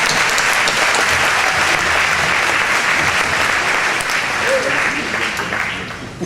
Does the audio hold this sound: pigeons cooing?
no